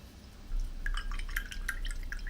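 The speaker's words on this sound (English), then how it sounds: "Put some water on the dry part." Water dripping onto a gouache painting on Aquabord, a series of small, sharp, close drips and taps over a faint hiss, irregularly spaced, with no voices.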